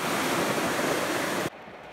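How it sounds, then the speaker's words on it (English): Flood water rushes down a hill during the Ellicott City flood on New Cut Road, Maryland, a loud, dense, continuous roar that cuts off abruptly to a quieter rumble near the end. "Whole lot of angry water coming down this hill."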